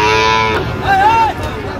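Cattle lowing at a Sahiwal bull market in Ambari, a single drawn-out moo rising out of the busy crowd noise of the market, fairly close by.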